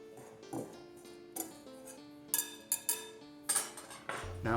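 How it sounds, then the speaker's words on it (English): Flour, brown sugar and other dry ingredients are stirred in a bowl, heard as a series of light metallic clinks and scrapes of a utensil against the bowl, fairly quiet and irregular, with no talking. "I want to mix the dry ingredients to ensure they are evenly distributed throughout the flour."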